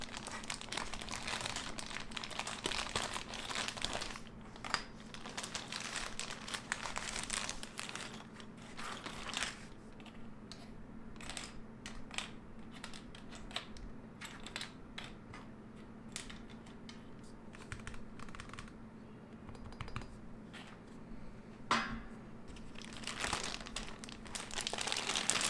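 Keys and keycaps clatter on a KBD6X hotswap mechanical keyboard fitted with MDA Big Bang and Topre keycaps, with close, irregular clicks and tapping that continue throughout and no talking.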